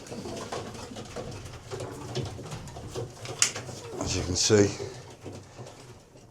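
Young racing pigeons cooing inside the young bird section of a pigeon loft, soft throaty coos rising near the end while someone talks throughout.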